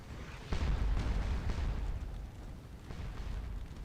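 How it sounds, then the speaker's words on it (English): Musket volleys from massed infantry in the Waterloo-era game Scourge of War: Waterloo, heard as a few heavy, rumbling bursts of gunfire. The first and loudest crack lands early, then further booming reports follow with no talk. "boy are they exposed to enemy infantry firing volleys at them"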